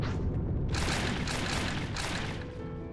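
A god being destroyed in a massive explosion in the video game Ys 3, sounding as a loud sustained rumbling boom with crackling bursts that roll on for a few seconds without any talk.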